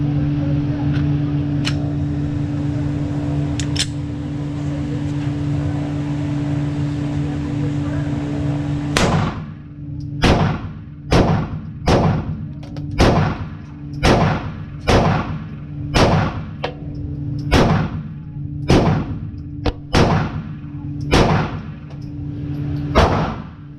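A Glock 43X pistol fitted with an MCK brace fires a rapid magazine dump at 7 yards, with over a dozen sharp, loud shots in quick steady succession after a steady hum of background noise.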